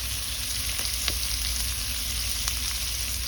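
Sliced fish roll and onion sizzle steadily in a hot pan for yakisoba, a close, continuous frying hiss with a few small pops and stirring clicks, no voices.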